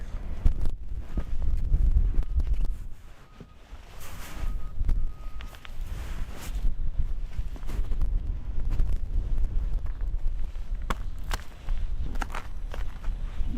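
Steady wind rushes over a boat moored through a winter storm, a continuous low buffeting roar with gusts and occasional faint knocks and creaks.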